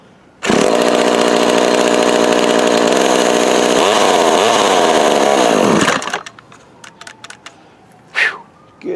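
A 1979 McCulloch Mac 110 chainsaw bursts into life and runs loud and close at high revs for several seconds, then cuts out, leaving scattered clatter and a brief fainter rev afterward.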